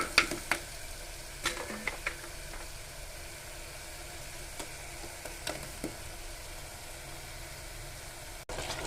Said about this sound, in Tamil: நல்லா கிளறி விட்டுக்கிடலாம்